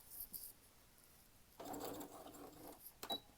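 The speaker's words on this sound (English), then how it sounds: "we're just going to sew some straight lines" Sewing machine stitching straight lines on fabric for a wine bottle gift bag, a faint, quick mechanical whirring run of about a second and a half, preceded and followed by soft clicks.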